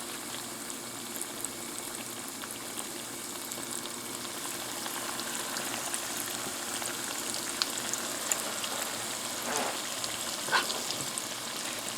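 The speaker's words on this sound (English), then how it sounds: "See that sizzling? That's the perfect temperature." Salmon croquettes sizzle steadily in hot frying oil in a pan, a soft, even crackling hiss with occasional small pops, close and fairly quiet, with no talking.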